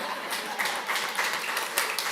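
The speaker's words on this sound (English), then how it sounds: "An applause for her, please." Audience applause for a speaker at the World Gastronomy Summit, a short burst of many hands clapping at moderate volume, fairly distant and continuous.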